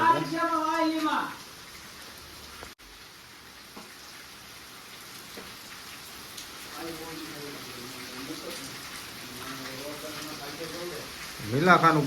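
Heavy rain pours steadily over Nilakha during a three-hour downpour, a dense, even hiss filling the middle stretch, with someone talking briefly at the start and again at the end.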